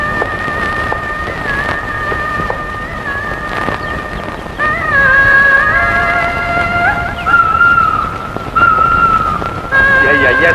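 A horse turns around in an old Tamil film scene, whinnying in high drawn-out calls over a steady background, with faint hoof sounds and voices around it.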